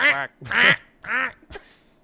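A human voice imitates a duck with three nasal, close quacks in a row, each about a quarter second long, followed by a soft click.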